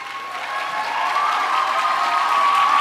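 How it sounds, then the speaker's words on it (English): A theatre audience applauds grant recipients at a literary awards ceremony, a steady, dense round of clapping that swells slightly and holds, with faint cheering mixed in and no talk over it. "I invite those who are with us tonight to stand for a round of applause."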